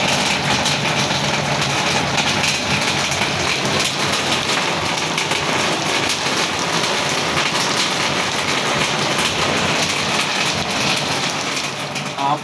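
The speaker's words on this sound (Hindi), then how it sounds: "तो बारिश बाहर आपको पता है लगी हुई है बहुत ज़बरदस्त किस्म की।" Heavy rain pours steadily outside, a dense, loud, unbroken hiss of drops hitting surfaces for the whole stretch, with no talking over it.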